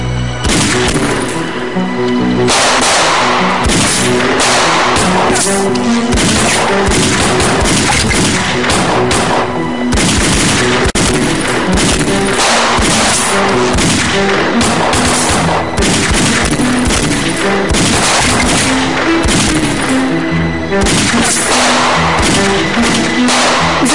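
Gunfire in a war drama series rattles in dense, sustained volleys mixed with heavy booms, loud and continuous with no clear pauses.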